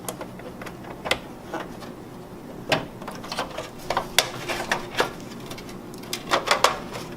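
A wire connector being clipped back in inside an Xbox One console case during optical drive replacement, heard as scattered sharp plastic clicks and taps, close and fairly loud over a faint steady hum.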